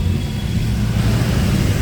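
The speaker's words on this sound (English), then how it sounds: "an entire group of Ducati pulls up" Several Ducati motorcycles rolling up together in Mumbai street traffic, a steady close engine rumble that holds at one level throughout without sharp revs.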